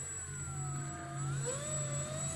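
Electric motor of a Dynam Primo RC airplane running steadily as it taxis around a parking lot, a continuous whine with slowly shifting pitch, fairly quiet.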